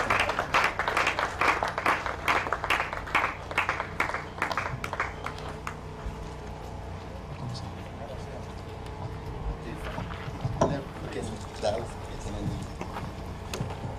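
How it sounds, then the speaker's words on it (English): An audience at a live Igbo music event claps and cheers in a dense, loud burst of applause over the first several seconds, which then thins out and fades under background voices and stage sound. "Put your hands together for him."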